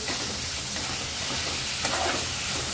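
Tomatoes sautéing until soft for kolambi (prawn) masala, a loud, continuous sizzle with light stirring scrapes and a small clink near the end, no voices.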